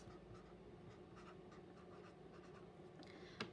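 Marker squeaking and scratching across an anchor chart while writing multiples of denominators for subtracting fractions, short quiet strokes in an irregular rhythm, faint and close, with a small tap at the end.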